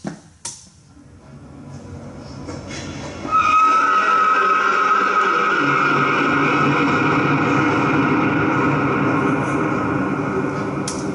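A horse whinnies loudly and close, a long drawn-out neigh rising over background noise after a quiet start with a few faint knocks.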